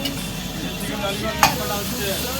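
Food sizzles and fries steadily in a pan with a constant hiss of moderate loudness, with a brief sharp clink or scrape partway through.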